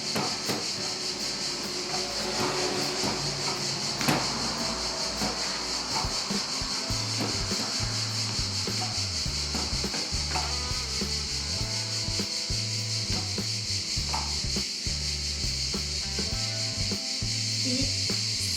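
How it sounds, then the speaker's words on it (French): A small spoon stirs semolina baby food in a container, making soft continuous scraping and rubbing close by, with a low rhythmic mechanical drone underneath. "je vais mettre ma semoule directement dans ma petite cuillère. Et il ne me reste plus qu'à mélanger le tout"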